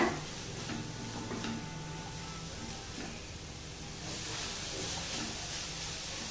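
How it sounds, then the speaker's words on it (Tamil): Carrot and shredded cabbage sauté in a pan, giving a steady, soft hiss and sizzle that runs on without a break and grows a little louder near the end. "அந்த கேரட்டையும் ஒரு 2 நிமிஷம் வதக்கிக்கலாங்க"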